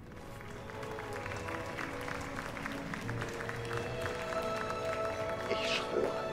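A small scattered burst of applause from a crowd in Mass Effect: Andromeda rolls on as light, continuous clapping under faint background sound and a voice.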